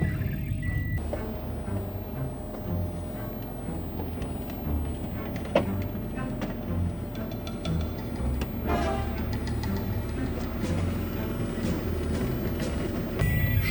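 An old right-hand-drive Japanese donor car idles close by, a low steady engine drone with rattling and clanking and a few sharp knocks throughout, no voices.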